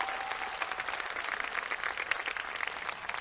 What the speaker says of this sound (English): And give Albert a big round of applause.